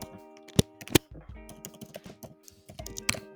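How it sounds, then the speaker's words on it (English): Someone types an SSH command on a computer keyboard: irregular, close keystrokes with a few harder clacks, over a faint steady hum. "So to do that, we're gonna type SSH"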